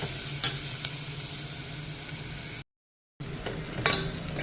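Onion and red chili sauté in a pan, a steady low sizzle with occasional stirring scrapes and taps, briefly cutting to silence before the frying resumes, nearby and without talk.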